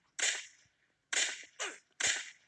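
Sharp gunshots in a western-style mobile shooter game: three close, loud cracks plus a shorter fourth report, each decaying quickly with silence between them and no talk.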